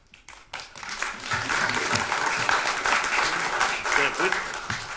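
Clapping breaks out from the audience at a county board of supervisors meeting, rising quickly after a few scattered first claps and holding as a dense, steady round with some voices under it.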